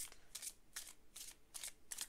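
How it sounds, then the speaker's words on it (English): Tarot card deck being shuffled by hand, a quiet close series of about six crisp riffling bursts in a steady rhythm, alone without talk. "That was such a sloppy shuffle."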